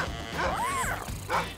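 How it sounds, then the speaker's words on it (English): Dogs bark and yip in a chase: a short burst of excited, high-pitched barks and whining yelps, close and fairly loud, with a second bark near the end. "Oh no, some dogs are chasing him."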